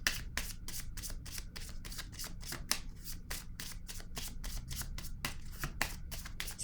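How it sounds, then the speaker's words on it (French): Tarot cards riffled and shuffled by hand in a steady run of close, crisp flicking bursts with no talk. "Je vais piger une autre carte ici."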